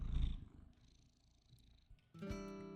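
A pet cat purrs quietly up close, a soft low rumbling pulse that swells at the start and fades, followed by a brief higher tonal sound at the end.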